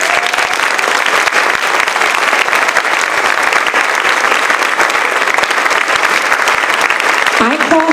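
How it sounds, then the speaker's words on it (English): A large crowd at a high school scholarship awards event gives sustained, loud, dense applause for a staff member, steady throughout, with a voice briefly audible near the end. "so we can give you a round of applause and say thank you"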